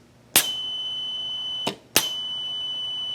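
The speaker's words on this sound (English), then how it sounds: "That sound is the air whipping through the nozzle" Air whistles through the nozzle of a propane flamethrower when its solenoid is pressed, giving a thin, steady high tone that starts with a sharp burst, cuts out briefly, then returns after a second sharp burst.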